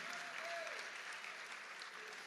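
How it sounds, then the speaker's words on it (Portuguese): Steady applause from a large church congregation, a continuous wash of clapping at moderate volume, with faint voices underneath. "aplauda o nome de Jesus aí"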